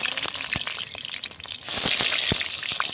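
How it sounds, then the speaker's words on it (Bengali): Steamed cabbage leaves frying one by one in hot mustard oil in a wok, a steady close crackling sizzle with scattered sharp pops, rising and thickening partway through. "এখন আমি এক এক করে ভাপিয়ে রাখা বাঁধাকপিগুলি ভেজে নেব।"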